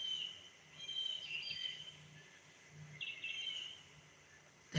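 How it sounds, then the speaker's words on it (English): Faint, fluty wood thrush song phrases drift in twice from a distance over a quiet outdoor background. "Wood thrush, see it?"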